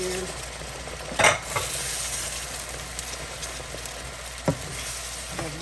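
Beef broth gravy stirred in a hot pan for a cube steak Sunday dinner, with a steady soft sizzle and frying hiss throughout and a few sharp clinks of the spoon against the pan.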